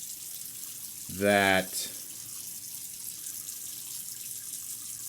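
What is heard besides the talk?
water running from tap while rinsing a razor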